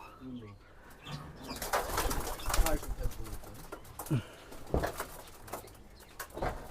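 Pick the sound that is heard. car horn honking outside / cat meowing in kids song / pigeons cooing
pigeons cooing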